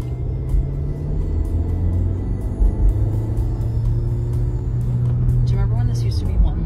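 A manual-transmission car's engine rumbles steadily while driving, a low continuous drone with shifting pitch over about seven seconds, overlaid by voices talking inside the cabin.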